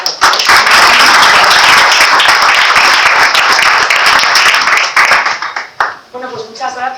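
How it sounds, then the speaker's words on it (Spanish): A conference audience claps for panel speakers at a round table on female digital talent, loud close applause that thins toward the end as a voice begins speaking over the last scattered claps. "Un fuerte aplauso, por favor."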